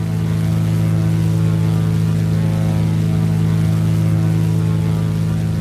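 Tow plane and glider taking off together in a flight simulator game, a steady propeller engine drone with a constant tone that holds unchanged throughout, with no voices.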